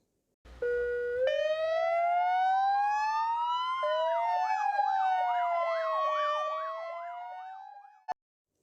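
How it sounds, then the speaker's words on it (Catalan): A police car siren wails alone, first rising in a long steady sweep, then switching to a fast alternating yelp, before cutting off abruptly. "cotxe de policia"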